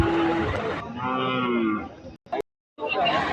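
Cow at a livestock market selling bulls, cows and buffaloes in Kadiri, giving one long, loud, close moo that wavers in pitch, followed by a short silence and a bit of nearby noise.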